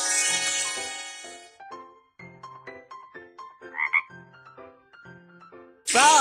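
A cartoonish frog croak pops out over a light, plinking tune in a BabyBus children's video game, followed later by another loud croaking burst as the music stops.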